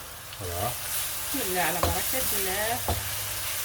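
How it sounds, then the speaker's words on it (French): Onions sizzle in a frying pan with salt added, a constant hiss close by, while a voice talks over it throughout. "les oignons ils sont dans la poêle en train de... Voilà, un petit peu de sel, c'est en train de mijoter"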